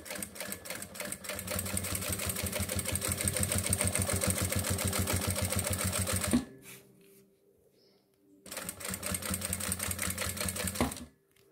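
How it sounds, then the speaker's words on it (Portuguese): Sewing machine stitching synthetic leather for a women's wallet, 4.5 stitch length with a Teflon center zipper foot: a steady rapid needle chatter for about six seconds, a short pause, then another burst of even stitching. "E venho costurando reto aqui."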